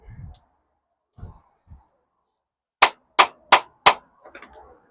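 Four quick light metallic taps on a bolt of a 2.0T FSI engine thermostat housing, close and evenly spaced, with faint breathing and small handling noises before and after.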